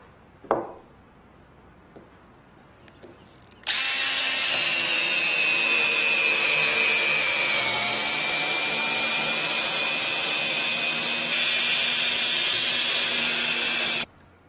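A power drill drives a SPAX screw into wood, running as one loud, steady whine for about ten seconds before it stops abruptly. A few faint clicks come before it.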